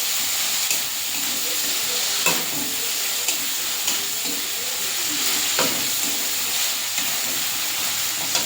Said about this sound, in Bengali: পেঁয়াজ, রসুন, আদাটা একটু ভালো করে কষিয়ে নেব।